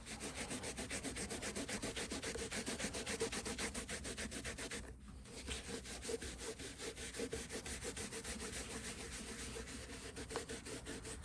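Steady rubbing and wiping with a folded shop towel while cleaning gunk off a project surface, a continuous close scrubbing texture with moderate pressure and one brief pause midway.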